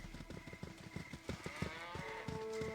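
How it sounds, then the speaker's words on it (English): Several cows moo in the Baldur's Gate: Tales of the Sword Coast video game, a quick series of low, overlapping calls on a farm, close and fairly loud with a faint steady background hum. "Some cows."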